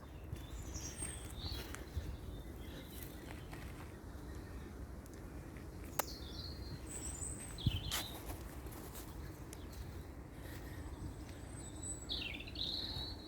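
Scattered spring birdsong of short chirps and whistled phrases sits over a steady low outdoor rumble, birds fairly distant and intermittent, with a couple of faint knocks.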